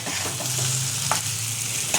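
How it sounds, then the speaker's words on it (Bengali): Fried potatoes being stirred into a pan for aloo dum, a steady soft sizzle with faint scraping of the spoon, two brief clinks near the end, no talking. "ভাজা আলুটা একটু মিশিয়ে নেব।"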